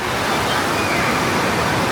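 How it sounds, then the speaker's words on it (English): Water of the lazy river at the Great Wolf Lodge water park in Anaheim rushes steadily in a dense, continuous wash close by, with no pauses over the two seconds. "Here's some more of the lazy river."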